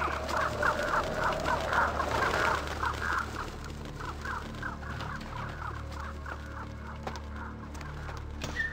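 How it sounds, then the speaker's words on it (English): Crows caw in the video game Vampire the Masquerade: Bloodlines, a long run of rhythmic harsh calls repeating steadily at moderate loudness over a low ambient game hum, with a brief pause midway before the calling resumes. "That guy is really having a bad day with the crows, doesn't he?"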